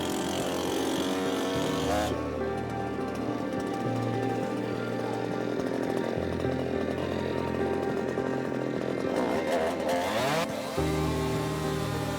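A chainsaw cutting trees runs loudly and steadily, its engine pitch shifting as it bogs down and revs back up while cutting, with no talking.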